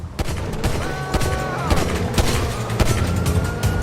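Rapid bursts of gunfire from a GTA 5 police chase: sharp cracks repeat irregularly throughout, loud and close, under a busy game mix. A tonal siren-like wail runs briefly through the middle. No one speaks during it.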